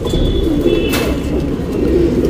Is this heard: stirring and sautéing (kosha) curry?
no